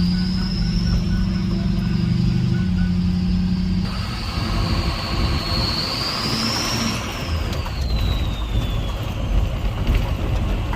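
A truck with a 6.0 diesel engine runs on a performance tune, giving a steady low rumble with a high whine that rises and falls partway through, close and continuous with no talking.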